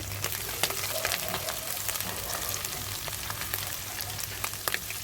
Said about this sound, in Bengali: এখন আমি একটু রসুন কুচি দিয়ে দিলাম।